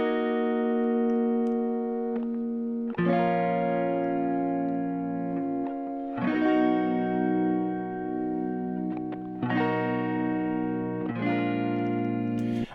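Heavily processed guitar chords sit in a beat, sustained and layered with effects, entering in repeated sections roughly every three seconds with brief gaps between them, steady and fairly loud with no voices.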